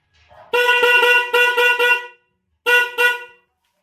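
Solfili hyper air horn fitted to a Honda Beat motorcycle blares loud and close in a rapid run of five blasts, then falls silent before two more short toots.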